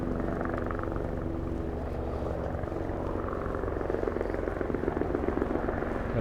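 A helicopter drones steadily overhead, a continuous low rotor rumble that holds at a fairly constant level throughout.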